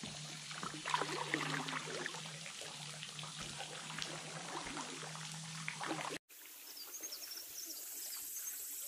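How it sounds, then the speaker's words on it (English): A big waterfall on the Buffalo River roars as a steady, dense rush of water. It holds evenly close by for about six seconds, then cuts to a quieter, thinner splashing. "Giant buffalo waterfall."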